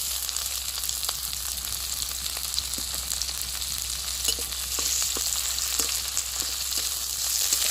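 Cumin seeds and chopped onion fry in hot oil for a jackfruit seed dish, a continuous crackling sizzle with scattered pops and spatula taps, under a low steady hum.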